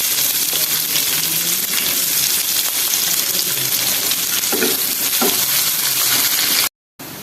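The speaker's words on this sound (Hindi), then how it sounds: "और तापरे कटा पियाज पकाई फ्राई करबा" Chopped onions frying in hot oil in a pan along with bay leaf and whole spices, a loud, close, continuous hiss and sizzle with a few brief clinks, cutting out briefly near the end.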